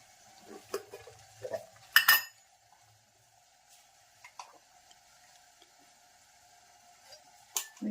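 A spoon scraping and clinking against a pan while sukhdi of flour, coconut powder and jaggery is stirred, a few sharp metallic taps and knocks between quiet scraping, close and sparse.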